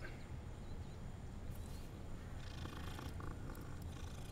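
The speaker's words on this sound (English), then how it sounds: "Another cat." A cat in the Hogwarts Legacy video game purrs in a soft, continuous low rumble, heard alone and fairly quietly for several seconds.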